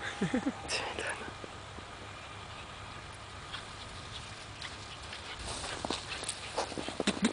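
Dogs run around in snow, their paws pattering and crunching steadily at close range over a broad hiss, with brief voices near the start and end.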